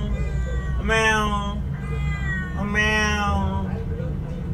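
A cat meows twice, loud and close, each call drawn out and whiny, with a low steady hum underneath.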